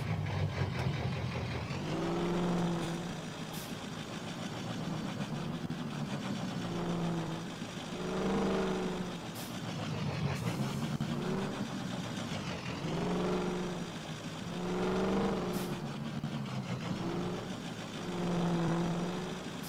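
Modded trucks in a video game give a steady, loud engine drone that swells and eases in repeated rev cycles, heard alone with no talk.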